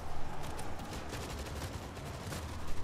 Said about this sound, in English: let me get back on this machine gun